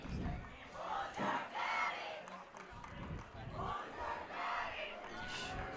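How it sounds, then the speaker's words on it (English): A high school football student section at Mosinee keeps up loud, sustained crowd cheering and chanting in surging waves, with shouted voices rising and falling throughout. "Mosinee student section still cheering despite the results on the scoreboard"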